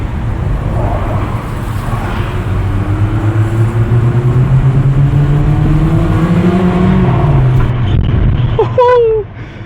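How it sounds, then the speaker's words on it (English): A Mercedes-Benz A45 AMG Petronas Green Edition drives with a loud, steady engine and exhaust roar, rising and falling tones carrying through. A voice speaks briefly near the end. "Oh, you can hear the turbo whistle too."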